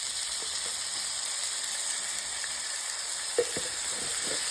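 Chopped yellow onion and garlic sauteing in a skillet, giving a constant, even sizzle and hiss with a few faint pops and stirring touches, close-up and alone.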